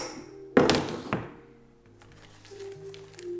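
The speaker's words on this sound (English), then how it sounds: "I just threw away my dish in the trash." A disposable dish drops into a trash bin with one sharp thunk, followed by a lighter second knock, then quiet room hum.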